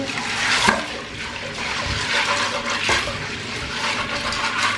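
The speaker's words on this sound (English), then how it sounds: "So be sure to wash the peas and beans very thoroughly" Tap water runs steadily while peas and red kidney beans are washed for a vegan stew, a continuous splashing rush with a couple of brief surges, close and fairly loud with no talking.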